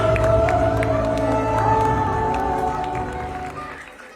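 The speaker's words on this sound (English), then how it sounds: "Keep clapping for them." Crowd at a school annual day celebration cheering and clapping for the students' performance, a dense, loud wash of applause and shouts that holds steady and then slowly fades toward the end.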